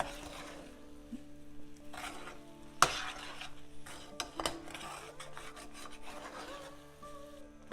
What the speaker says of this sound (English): Keep stirring continuously until the mixture thickens.